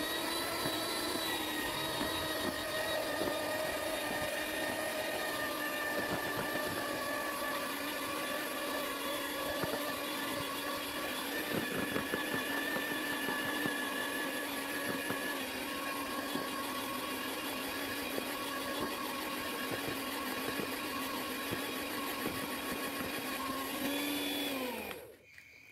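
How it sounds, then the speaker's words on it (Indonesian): An electric mixer kneads a large batch of wheat-flour dough, its motor giving off a steady, even whine with a low rumble that runs unbroken for the whole stretch and winds down at the very end. "Lalu mixer kembali hingga tercampur rata."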